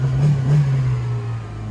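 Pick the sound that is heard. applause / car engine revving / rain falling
car engine revving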